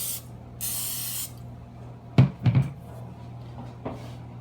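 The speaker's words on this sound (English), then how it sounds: "I'm gonna spray my knife." A can of cooking spray hisses in one short burst onto a knife in a home kitchen, followed by a few soft clunks and knocks as items are handled nearby.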